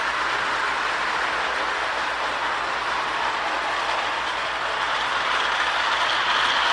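A vintage Ives 1122 toy locomotive from around 1929–1930 runs steadily on its track, giving a loud, continuous mechanical whir with a fast rhythmic clicking of wheels over rail joints and no pause.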